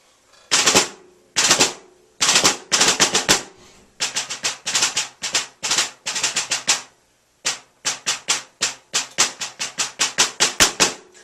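A snare drum plays a solo etude from Portraits in Rhythm, up close and alone, with sharp rolls and accented strokes that come in bursts, then build into a long run of evenly spaced hits that grow louder.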